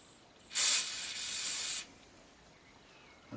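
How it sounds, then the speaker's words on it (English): Cleaner aerosol sprayed onto the control arm of a Dansette record player: one close hissing burst lasting about a second and a quarter, loud at the start and then steadier, against a quiet room. "we'll spray a bit of cleaner on this and clean all this up"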